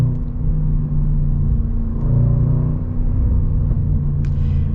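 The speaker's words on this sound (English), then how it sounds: "it makes some nice gargles out of the exhaust. And you get just a little bit of supercharger whine too." A 2021 Range Rover Sport SVR Carbon Edition's supercharged engine rumbles steadily and loud from close by, with a faint rising whine and a brief crackle near the end, no talk.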